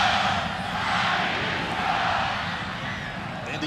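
A large crowd at a college football game, Indiana at Purdue, gives off a sustained, broad roar that swells and eases slightly across the moment.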